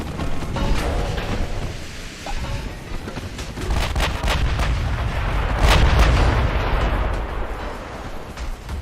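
Warship guns fire at a battleship in a naval combat video game, a loud barrage of booming salvos with crackling blasts, repeated throughout and unaccompanied by talk.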